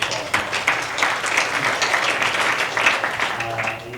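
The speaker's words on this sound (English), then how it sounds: "I hope you give yourselves applause" Audience applause at a songwriter event, a steady wash of clapping lasting about four seconds at moderate level, with some voices mixed in.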